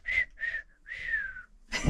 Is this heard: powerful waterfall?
no